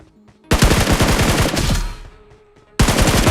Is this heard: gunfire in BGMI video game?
yes